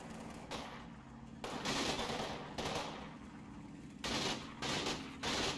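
Automatic weapons fire from American picket forces in the WWII strategy game Combat Mission Kampfgruppe Peiper, at a bridge over the Amblève: a steady crackle of distant shooting broken by several louder, sharper bursts.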